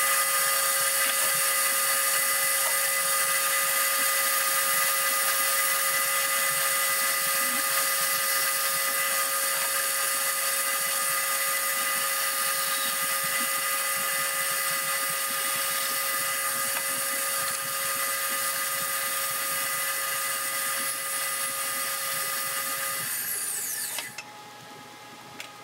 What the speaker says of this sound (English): I got a lot of it smoothed out on the sander